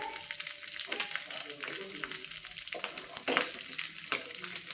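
Green chillies and garlic roast in hot oil for a Maharashtrian thecha, with a busy close sizzle and crackle. Scraping stir strokes come through every second or so.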